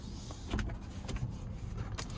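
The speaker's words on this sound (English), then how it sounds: "let's go ahead and slide this roof back" An electric sunroof on a 2017 Chevy Tahoe LT Luxury with 136K miles slides open, a steady close motor whir from inside the cabin with faint clicks, no talking.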